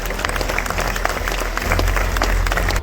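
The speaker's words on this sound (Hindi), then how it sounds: "और एक बार जोरदार तालियां हो जाए लक्ष्मण जी के लिए।" Loud, dense applause from a crowd at a medal distribution and closing ceremony, a continuous roar of many hands with a low rumble swelling in the second half, no speech.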